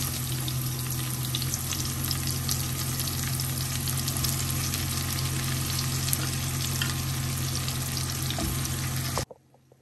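Champiñones (mushrooms) frying in a pan for a creamy mushroom chicken dish, a steady close sizzle with faint stirring that runs continuously and then cuts off abruptly near the end.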